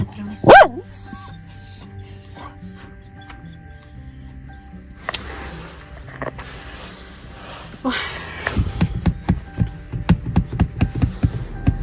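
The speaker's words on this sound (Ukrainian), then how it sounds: "Ой, собаки." Dogs bark and yip, with scattered sounds early on, then a burst of rapid, repeated barking near the end.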